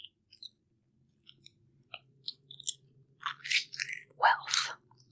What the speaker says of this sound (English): That is the sound of coins.